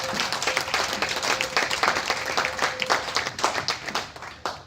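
A church congregation applauds in praise during an evening worship service, steady clapping from many hands filling the room for nearly five seconds, with a faint sustained tone underneath.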